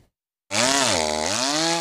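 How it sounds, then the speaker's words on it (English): A chainsaw cutting trees damaged by a derecho storm starts abruptly after a short silence and buzzes loudly and steadily, its pitch dipping briefly and then rising again as it works. "the loud buzz of a chainsaw has become all too familiar"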